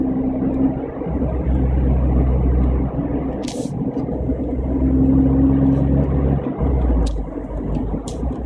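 A Suzuki Alto (HA36S) engine drones steadily at about 5,000 rpm, its muffler giving a loud, continuous rumble with a few brief higher bursts near the end.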